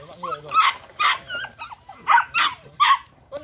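Belgian Malinois barking at a kennel, several loud close barks in quick bursts with whimpery yips between, spread across the whole span.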